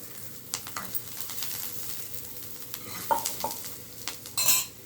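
Sautéed vegetables for carrot poriyal get stirred in a frying pan, with a soft, steady sizzle under light scraping, and a few utensil taps and clinks against the pan near the end.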